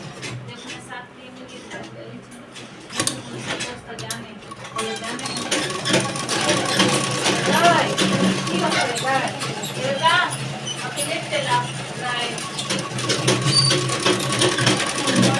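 A sewing machine stitches two long strips of fabric together for a border and sleeve join, starting as a steady whirring drone after a few seconds and carrying on continuously beneath someone talking.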